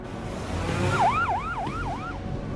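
An ambulance siren wails in a repeating falling two-tone pattern, four quick cycles sounding somewhat distant over a low traffic rumble, with no talk.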